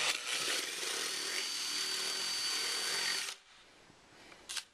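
A power drill bites through aluminium while fitting rear lights to a Range Rover L322, a loud high whine lasting about three seconds before stopping, followed by quiet and a short faint clatter.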